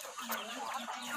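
A chicken in a rural provincial home clucks in a short, faint burst of a few quick notes, heard alone at low level.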